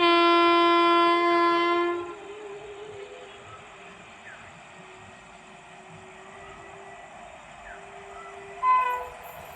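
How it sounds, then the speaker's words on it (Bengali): Bamanhat–Sealdah Uttar Banga Express sounding a long, loud multi-tone horn for about two seconds as it passes through a station, then a steady rumble of moving wagons, with a second short horn blast near the end. "বামনহাট শিয়ালদা উত্তরবঙ্গ এক্সপ্রেস।"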